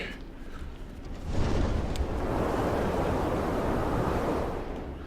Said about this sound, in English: It's little gusts. Behind you gust. Big gust. Little gust.